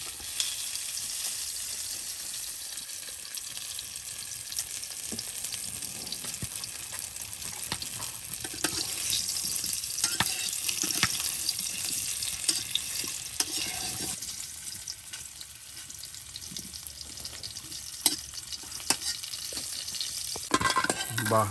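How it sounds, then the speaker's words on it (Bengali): Pitha rice cakes fry in oil with a continuous, moderately quiet sizzle, broken by scraping and stirring clatter and a few sharper clicks throughout. "কত পিঠা আপনার ভাজা ভাজা হয়ে গেল।"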